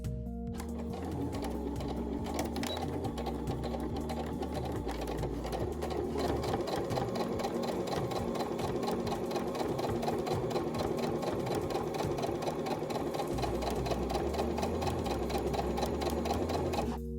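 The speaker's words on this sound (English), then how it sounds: "Top stitch the top and the bottom." Sewing machine top stitching a fabric face mask, a close, steady mechanical whir with rapid needle ticking running continuously after a brief start.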